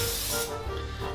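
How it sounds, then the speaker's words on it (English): A short, faint hiss of cooking spray coats a cake pan for about half a second, then gives way to quiet room noise. "Get a nice spray, nice coating."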